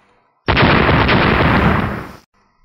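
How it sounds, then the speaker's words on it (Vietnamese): A loud, sustained blast of explosions roars for nearly two seconds, then cuts off abruptly into near silence. "Tiếng nổ liên tiếp vang lên"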